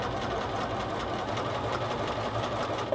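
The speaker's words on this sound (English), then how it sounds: "make sure that you're staying at 1 inch as you're sewing." A sewing machine stitches steadily through the lined hood of a hoodie, giving a continuous close mechanical hum with a fast even chatter and no pauses.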